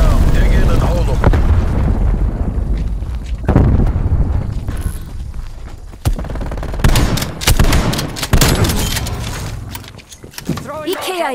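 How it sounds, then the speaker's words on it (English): Stun grenade detonations in a tactical shooter game, several sharp loud booms and bursts amid continuous gunfire, with voice chatter running beneath the action. "Throwing grenade. Stun grenade out."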